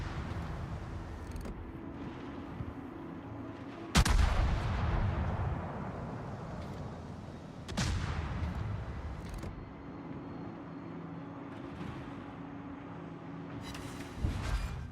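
Naval gunfire in the World of Warships video game: heavy booming salvos at roughly four-second intervals, each trailing off over a steady low engine and sea rumble.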